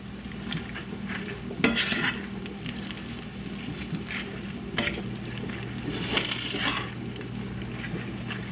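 Greens sautéing in a pan for a rigatoni alla vodka dish, with a soft, steady sizzle and scattered scrapes and clatters as a spatula flips them. A few sharper utensil knocks stand out over the continuous frying.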